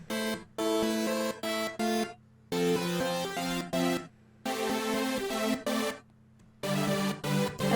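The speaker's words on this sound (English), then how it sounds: "And there we have ourselves a super saw" A detuned super saw synth lead plays a bright, buzzy, stacked chord melody in short phrases separated by brief gaps, with a low sustained note underneath, clean and with no voices.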